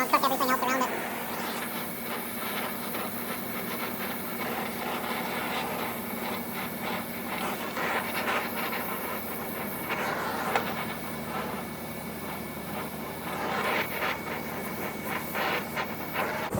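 Torch flame heating a small metal piece while removing windshield wiper parts on a snowcat, a steady broadband hiss and roar running throughout with a few louder surges, a voice speaking over it.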